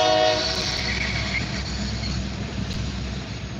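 A freight train locomotive rolls past at Butler, Pennsylvania, its horn blaring loudly at the start and fading as the engine's heavy rumble and wheel clatter continue close by.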